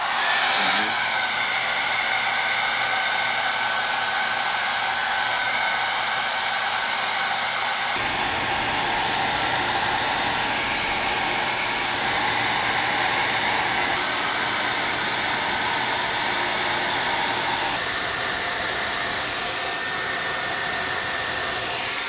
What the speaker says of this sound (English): the heat from the blow dryer will kind of move those hairs over and work them up